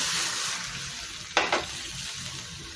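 Water poured into a sizzling pan of sardine sauce for sayote and sotanghon, with steady frying crackle broken by a short, loud hissing splash that quickly settles back to a low simmer, no talk.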